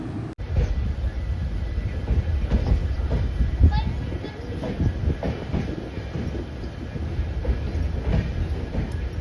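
The Karwar Express with LHB coaches rolls along a ghat section with a steady rumble and rhythmic clickety-clack of wheels, loud and close from onboard, with someone talking over it.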